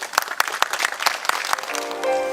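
An audience at a memorial ceremony claps to welcome a poet to the stage, brisk scattered applause that thins out after about two seconds as a tone sounds.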